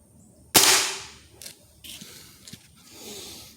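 A single sharp pellet rifle shot at a 1x4 pine board cracks out loud and close, followed by a decaying hiss and a few faint clicks and knocks.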